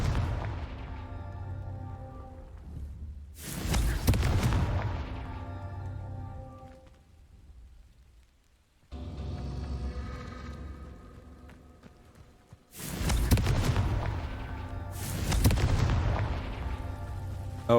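Confringo fire spell explosions in the Hogwarts Legacy video game, two loud bursting blasts separated by quieter rumbling stretches, each with a booming crackle that fades away.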